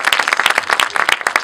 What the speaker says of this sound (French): vous pouvez l'applaudir si vous voulez.